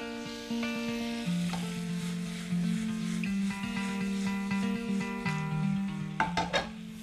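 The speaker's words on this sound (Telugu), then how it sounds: "chunk of butter butter melt అవుతుండగానే నేను ఇందులో వేసుకుంటున్నాను గార్లిక్ని" Garlic fries in melting butter in a pan, a close, steady sizzle with a few sharp metallic clinks near the end. Music plays underneath throughout.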